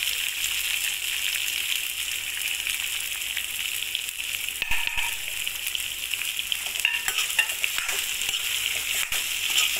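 Amla gooseberries fry in hot oil in a pan for pickle, giving a steady, close hiss of sizzling with occasional crackles and light stirring clicks, no voices.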